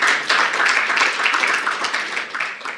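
An audience applauds a speech with loud, dense clapping that continues throughout and gradually fades a little toward the end.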